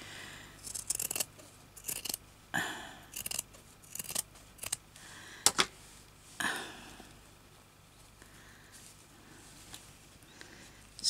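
Scissors snip through fabric pieces for a hand-stitched needle book, a run of sharp, close cuts in irregular bursts, some quick double snips, with quiet pauses between.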